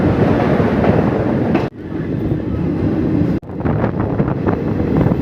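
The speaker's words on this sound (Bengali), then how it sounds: "আমাদের ট্রেন কিন্তু বোলপুর শান্তিনিকেতন স্টেশন ছেড়ে রওনা হয়ে পড়লো আমাদের যাত্রাপথের তৃতীয় স্টেশন রামপুরহাট জংশনের উদ্দেশ্যে।" The Haldibari Superfast Express rolls on after pulling out of Bolpur Shantiniketan station, a continuous rumbling rush of wheels and wind heard from on board, broken by two brief sharp dips in sound.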